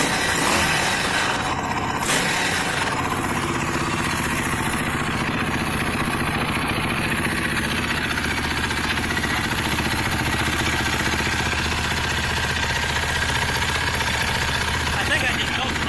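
A motorcycle engine under rebuild, with new rectifier, stator and carburetor work, idles steadily with mechanical clatter and a constant mid-pitched hum, while voices talk over it and the exhaust smokes.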